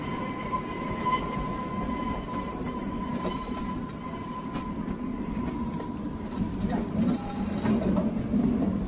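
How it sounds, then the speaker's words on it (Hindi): Small train on the Delhi to Shimla route, heard from on board as a steady rumbling run with faint rhythmic wheel clatter and a sustained high tone, continuous throughout. "वो जो होते हैं ना मूवीज में आपने देखा होगा ना, पों पों करके जाते हैं ना, वही ट्रेन है"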